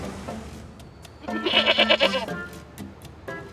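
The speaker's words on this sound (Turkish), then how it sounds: "Bir sonraki istasyondan Thomas bir keçi aldı" A goat bleats in a wavering, shaky cry lasting about a second, fairly close, with quieter background noise before and after.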